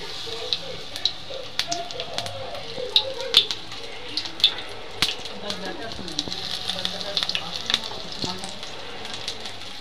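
Battered pumpkin flower pakoras fry in hot oil over a low flame, giving a steady soft sizzle dotted with frequent small crackles and pops throughout.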